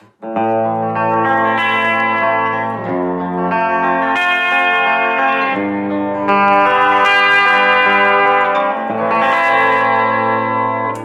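Electric guitar on a clean tone through the bridge pickup: four loud, sustained strummed chords, each ringing for two to three seconds before the next one is struck, with a bright, full tone and a slight shimmer.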